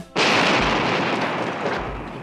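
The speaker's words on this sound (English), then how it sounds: "Episode 6 starts with a superb explosion." A loud explosion from a 1978–79 Dukes of Hazzard episode bursts in sharply and sustains as a dense, roaring blast with rumbling debris for about two seconds, with no voices over it.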